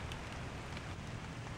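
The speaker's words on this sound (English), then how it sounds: "All of the leaves and the needles are being hit with little droplets" Light drizzle falling on forest leaves and needles, a soft continuous patter of tiny droplets spread evenly all around, no talk.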